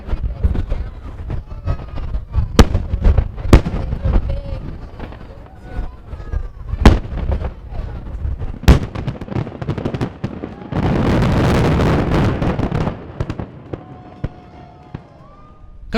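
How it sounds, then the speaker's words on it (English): Fireworks over the Delaware River heard from a stopped double-decker bus, with sharp separate booms and crackles at irregular intervals, some loud and close, plus a stretch of wind rumble on the microphone and voices in between. "We can't move anywhere because there's fireworks happening over the Delaware River."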